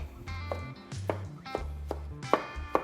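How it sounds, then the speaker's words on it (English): A knife slices through tender smoked barbacoa sausages on a cutting board, giving five or six distinct, crisp chops at roughly half-second intervals, close and clear. "I'm just gonna slice these up."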